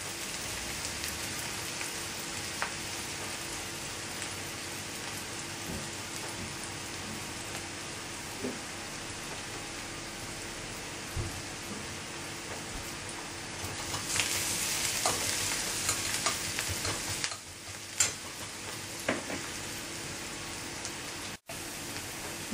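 Chopped onions with a pinch of salt sauté in a pan for masala corn, giving a steady, close crackling sizzle throughout with occasional stirring scrapes and no talking.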